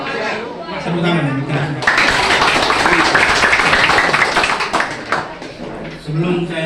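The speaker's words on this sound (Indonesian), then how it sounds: "Tepuk tangan." Talk gives way to a burst of applause from a crowd at a members' assembly, several seconds of dense clapping before the speaker resumes.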